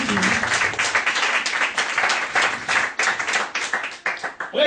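A church congregation applauding in a sustained burst of clapping that rises and falls in strength, filling the hall without a break.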